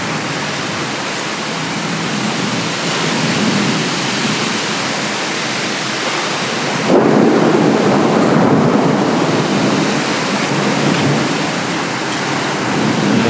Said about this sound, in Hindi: मोटा मोटा बूंद गिर रहा है पानी में।